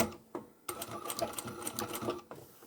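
A sewing machine stitches fabric for pot lid covers and pot holders, with a short run and a pause followed by a longer steady whir of rapid stitching, including a backstitch, and then it stops.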